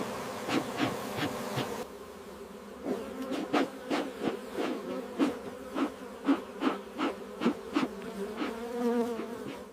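Honey bees buzzing around hives during smoking and hive inspection, a dense, steady insect drone with repeated pulsing swells throughout, no voices.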